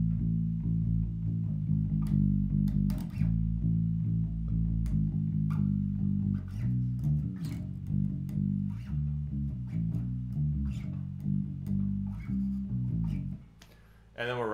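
Electric bass playing the verse part of a song, a steady run of low picked notes with shifting pitches that stays continuous and prominent before briefly dropping out near the end.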